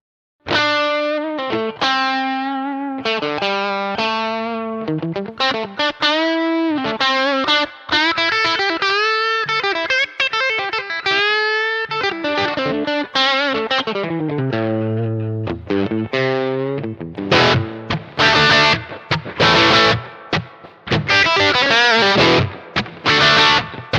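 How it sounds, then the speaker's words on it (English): Electric guitar driven through an overdrive pedal, playing continuous gritty melodic lines and chords, loud and up front with no talking. "that's a good sounding overdrive pedal"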